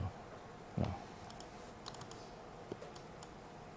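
Computer keyboard keys tap in scattered, light clicks alongside a soft thump, faint and close over a quiet room hum.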